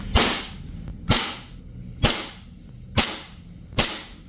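A T238 tracer unit on an airsoft gun fires five sharp, snappy shots, evenly spaced about a second apart, each crack close and loud with a short trailing decay.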